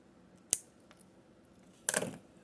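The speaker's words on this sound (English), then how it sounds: "I'm going to just cut that piece off that has the tape on there." Scissors cut off a taped piece of material during model train rolling stock work: a sharp snip, then a short crunchy cut a moment later, close and clear in a quiet room.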